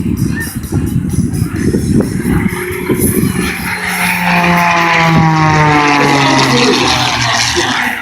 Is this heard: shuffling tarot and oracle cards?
no